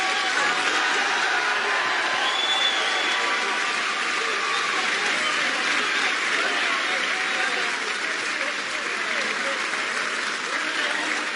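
Dense, steady applause from a large snooker crowd, sustained and even throughout, with a commentator's voice faintly under it.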